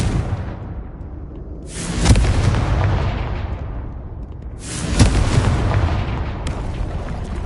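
Two loud, booming Confringo spell blasts from the Hogwarts Legacy video game, each a sharp broadband burst that decays slowly, a few seconds apart, with no talking.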